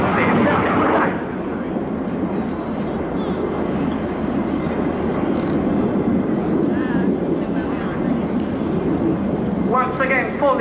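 Frecce Tricolori jet aircraft flying aerobatics at an airshow; a loud sustained roar of jet engines, with a public-address commentator talking over it.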